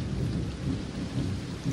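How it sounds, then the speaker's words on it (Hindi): Heavy rain pours down steadily as a dense, loud, continuous hiss with a low rumble beneath, with no voices. "देख रहे हो कितना तेज़ बारिश आया है"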